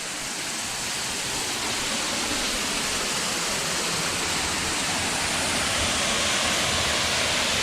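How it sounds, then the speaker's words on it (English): Waterfall in Blue Mounds State Park, heard nearby as a steady, full roar of falling water that fills the whole stretch at an even, loud level with no voices over it. "we hear a waterfall"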